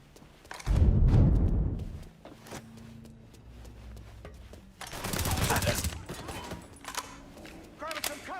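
Gunfire in the Mafia video game: a loud close burst of rapid shots, then quieter scattered fire and a second heavy volley, with voices shouting between shots.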